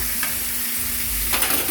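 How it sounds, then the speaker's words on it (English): A steak seasoned with garlic and ginger sizzles and fries steadily in a hot pan, with a short stirring scrape midway, close and continuous. "this has already been seasoned with garlic and ginger, so that is cooking all of that garlic and ginger"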